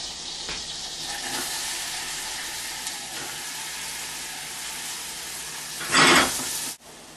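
Rhubarb and onions cooking in a water-filled pot on a stove give a steady, moderately loud bubbling sizzle throughout, with a brief louder splash or stir near the end before it drops off.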